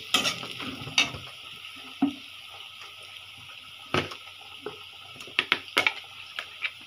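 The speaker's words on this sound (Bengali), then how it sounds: "পেঁয়াজটাকে একটু ভাজবো আমি" Onions frying with salt in a pan for an egg curry: a soft, steady sizzle broken by scattered clinks and scrapes of stirring, close and fairly quiet.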